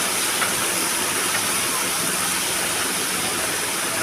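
Steady, loud sizzling hiss of capsicum, onion and carrot pieces frying in a pan as they are stirred, continuous with no talking.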